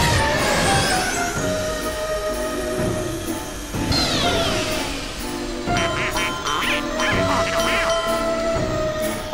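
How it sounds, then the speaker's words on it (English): Cartoonish duck quacks from Team Fortress 2 on a Halloween Doomsday server, repeated and tonal over busy game music and effects, fairly loud and continuous without talk. "Now the ducks are over here!"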